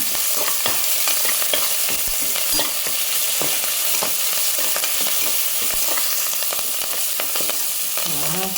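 Ginger and grated carrot sauté in a pan, giving a steady sizzle broken by frequent scraping stirs of a utensil against the pan throughout, close and fairly loud, with no talking.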